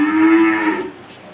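Close and loud, a Holstein Friesian cow at a farm gives a single steady moo that tapers off after under a second, with no voices around it.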